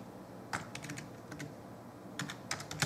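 Someone types on a computer keyboard in two short bursts of quick, close key clicks, separated by a quieter pause.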